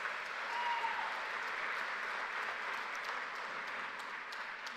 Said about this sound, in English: could you please give our parents and families and supporters a big round of applause?